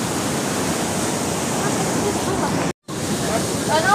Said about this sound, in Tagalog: andito tayo sa tabing dagat.